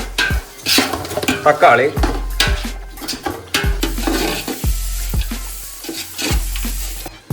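Onion with a pinch of salt sizzles and fries in a pan while a metal spoon stirs and scrapes against it, repeated clinks and scrapes over a steady frying hiss, with a brief spoken word.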